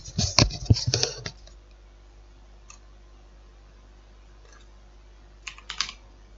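Computer keyboard typing while writing the word integer into C++ code: a dense flurry of quick keystrokes, a quiet pause, then a shorter burst of clicks, close and crisp.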